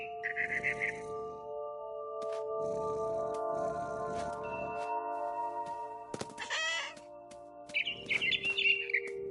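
Bird chirps and tweets from a mama bird in the What Remains of Edith Finch video game, in several bright bursts over steady tonal game ambience, moderately close, with no talking.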